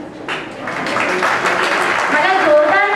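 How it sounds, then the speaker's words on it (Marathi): An audience at a Guru Vandana program claps steadily, the applause swelling and growing louder, with a voice speaking over it near the end. "टाळ्यांनी स्वागत करा प्लीज"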